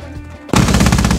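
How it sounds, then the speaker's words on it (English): Anti-aircraft guns in a video game open up in a sudden loud, sustained burst of rapid automatic fire, each shot crowding the next, after a quieter stretch of background game sound. "Hey, do those AA guns work?"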